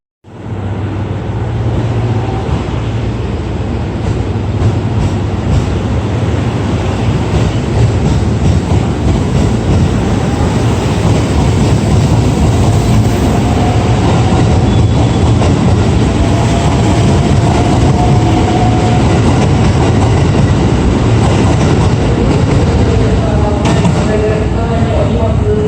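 A train runs on tracks near the Kyoto Railway Museum, a steady, loud rumble and rattle that runs through the whole stretch, with someone talking over it.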